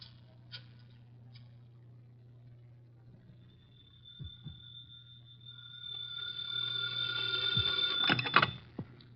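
A telephone rings in an old NBC radio drama, first a faint thin tone and then louder rings building toward the end over a low steady hum, with no voices.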